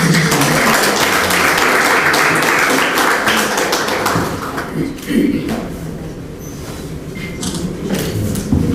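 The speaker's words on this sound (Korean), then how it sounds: "큰 박수" An audience at a literary awards ceremony and book launch in a seminar room at the National Assembly members' hall applauds, steady loud clapping that thins out toward the end, with voices mixed in.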